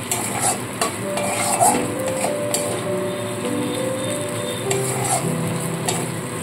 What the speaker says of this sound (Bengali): বাদাম দেওয়ার পর সমানে কিন্তু নাড়তে হয়